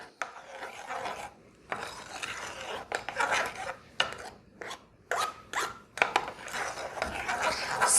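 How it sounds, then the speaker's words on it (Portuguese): Cake batter for a pot cake mixed slowly in a bowl: uneven rasping, scraping strokes with short pauses and occasional utensil clinks against the bowl. "Vou dar uma misturadinha aqui. Devagarinho."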